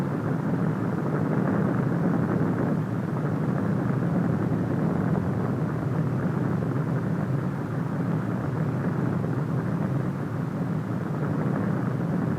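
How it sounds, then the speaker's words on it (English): A drone airplane flies over a target fleet after an atomic blast, giving a steady, unbroken engine drone with a rushing noise, constant in loudness throughout and without speech. "Here is one of the drone airplanes flying over the target fleet after the blast."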